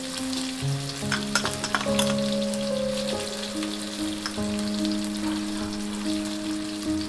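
Dhokar dalna frying in a pan with a tomato and sugar just added, a steady sizzle with spoon stirring and scraping throughout, under a sustained background of melodic music.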